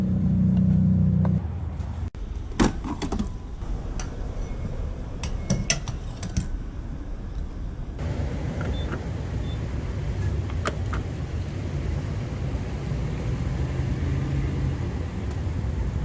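A car sits idling at a gas station while fuel pumps, a steady low rumble running throughout with scattered mechanical clicks and ticks layered over it, moderately close and without speech.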